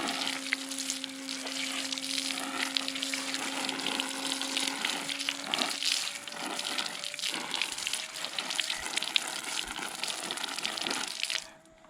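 Steady spray of water rinsing the fine nylon filter pieces of a Dolphin robotic pool cleaner, a continuous close hiss with shifting splashes throughout, with no talking.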